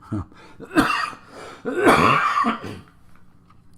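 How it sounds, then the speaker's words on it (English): A person coughs several times in short, harsh bursts close by, with throat clearing and breathing between them. "I'm about to cough now"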